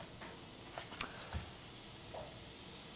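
A good amount of butter melts in a pan for halibut with pesto cream sauce, giving a soft, steady sizzle with a few faint clicks and taps from the pan, heard quietly and alone.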